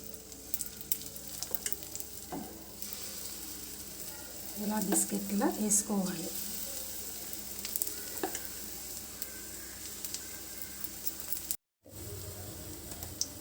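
Steady sizzling of laddu batter dropped in flat rounds into hot ghee, with some stirring and clinks, and a short burst of louder crackle midway.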